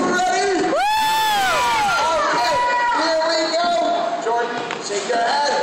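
A group of children at a science center cheer and shriek loudly in rising whoops, close and excited, then settle into chattering voices.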